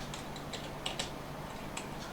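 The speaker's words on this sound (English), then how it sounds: "Let me type compositor again." Typing on a computer keyboard while working in Manjaro KDE settings: a short run of light, close key clicks with uneven rhythm and a couple of sharper taps, over a quiet steady room hum.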